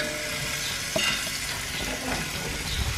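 Onion and garlic-ginger paste sizzle in hot ghee while being stirred, giving a dense, continuous frying hiss with scraping stir sounds and a small clink near the start.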